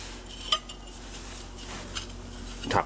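A small piece of steel angle is handled in a metal fabrication shop, giving a few light metallic clinks and taps, quiet and close, spaced out with a louder rattle at the end.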